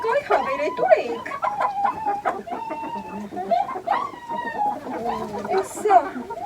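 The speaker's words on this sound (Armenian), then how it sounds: "Եկեք այ հավեր, էտ ուր էիք" Chickens cluck and chatter close by in a rapid, uneven stream of short calls, while a person talks among them.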